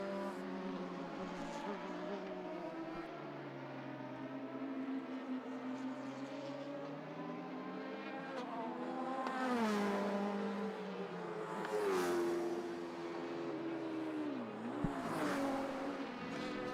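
A World Series race car sweeps past on a circuit, its engine note rising and falling through several sharp revving shifts, fairly distant and clear with little else around it.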